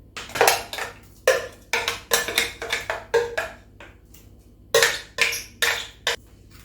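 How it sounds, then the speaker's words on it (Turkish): A spoon stirs garlic and sauce in a pot, giving repeated bursts of scraping and clanking against the metal in an uneven rhythm, close and fairly loud, with short quiet gaps between strokes. "Evet canlarım şimdi bunları iyice mi karıştıralım hepsini"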